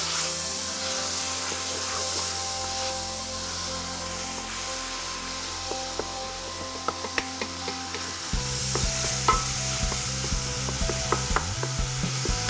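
Minced meat frying in a hot pan for chili con carne, with a steady loud sizzle and spatula stirring and scraping throughout, the scrapes growing busier and more rhythmic in the second half.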